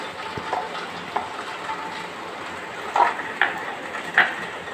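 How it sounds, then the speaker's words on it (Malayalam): Finely chopped onion, ginger and green chili fry in a pan with a steady close sizzle, broken by a few louder spits and stirring clinks toward the end. "ഒരു സവോള ചെറുതായിട്ട് അരിഞ്ഞേക്കണതാണ് കേട്ടോ. അത് ഞാൻ ഇതിനകത്തേക്ക് ഇട്ട് കൊടുക്കാം"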